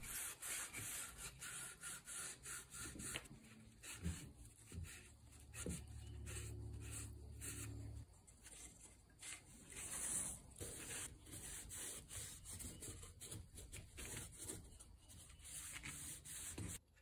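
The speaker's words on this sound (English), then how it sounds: "After a bit of final sanding" Continuous rhythmic scratching of sandpaper rubbed by hand back and forth over a wooden test tube stand, close up, in quick repeated strokes with no talking.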